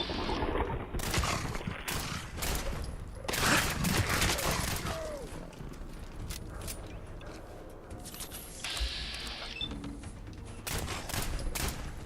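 Pistol fire in the video game Fallout 4 comes as a rapid series of sharp, loud shots in irregular bursts, mixed with mechanical clicks and clatter.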